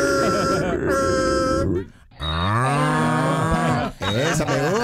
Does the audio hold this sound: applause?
no